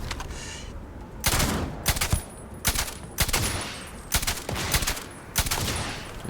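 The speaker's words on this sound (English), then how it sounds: "He's blind firing" Enemy blind fire in the video game Starfield: loud bursts of automatic gunfire come in repeated volleys of sharp, close cracks separated by brief pauses.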